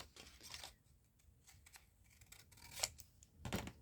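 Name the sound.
scissors cutting a paper pack cover sheet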